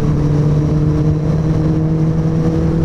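A Suzuki Hayabusa motorcycle fitted with a Two Brothers exhaust holds a loud, steady idle close by, a deep even drone with no revving.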